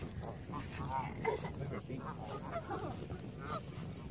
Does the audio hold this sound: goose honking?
yes